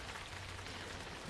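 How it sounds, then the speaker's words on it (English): Steady rain hisses in a Toca Boca video game, a continuous broadband wash of patter that stays even and moderately loud for the whole moment, with no voices. "It has been raining like all day long"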